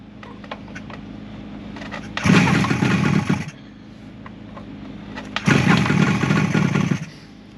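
A vintage motorcycle engine is being started at a swap meet. Two loud rough bursts of cranking and sputtering firing, each lasting about a second, are separated by a quieter idle-like rumble, close up with no talk.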